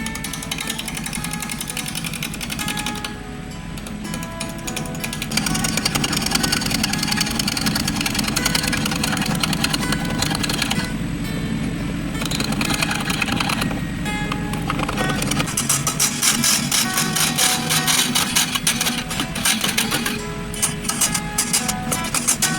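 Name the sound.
wood lathe turning a mallee burl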